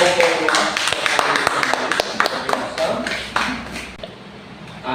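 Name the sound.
applause for the group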